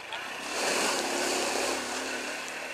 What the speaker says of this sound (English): there's like a river and stuff